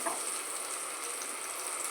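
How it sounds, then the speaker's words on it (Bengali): Panch phoron spices fry in hot oil with a steady, dense, hissing sizzle that holds evenly at close range and moderate volume throughout, with no talk. "5 ফোড়নটা একটু ভাজা ভাজা হবে"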